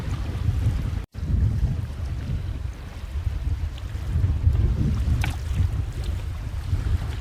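A steady wind of about 20 knots roars across a sailing boat cruising near Whitehaven Beach, making a loud, continuous low rush with a single brief dropout and faint water sounds beneath it.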